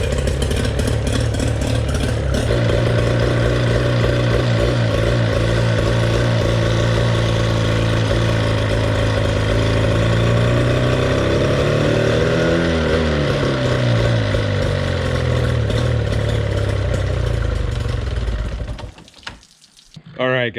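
A 1998 Tracker Super Guide V-14 boat's outboard engine runs loud and close at an uneven, rough idle, its pitch wavering, before it sputters near the end and catches again.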